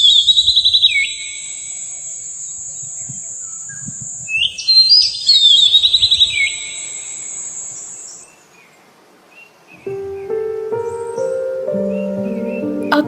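An Oriental magpie robin sings in clear, high whistled phrases and trills, bursts coming and going through the clip, with chirping insects beneath and a lower, fluty bird call near the end.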